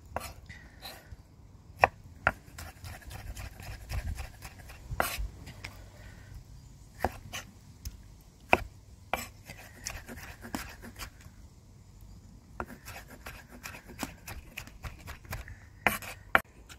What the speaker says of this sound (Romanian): Și o să le tăiem cu bulețe și pe acestea.